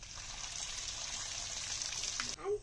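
Water being poured off boiled potatoes in a home kitchen makes a steady, close splashing gush that runs for a couple of seconds, then ends with a brief clatter of the pot.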